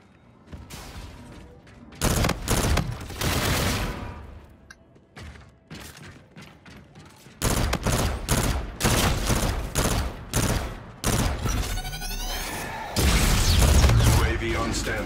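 Bursts of R3K rifle fire in Call of Duty: Infinite Warfare, loud clusters of rapid shots separated by short pauses, with booming impacts and a heavier volley near the end.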